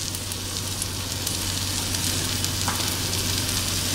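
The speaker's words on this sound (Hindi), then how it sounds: "इनको हम लगभग 2 मिनट भून लेंगे।" Ingredients roasting in a pan make a continuous, even sizzle with a soft crackle. A low steady hum sits under it, and no one speaks.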